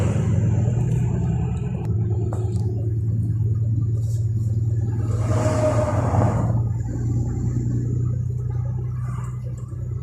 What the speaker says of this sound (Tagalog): Heavy traffic here in Alcabir.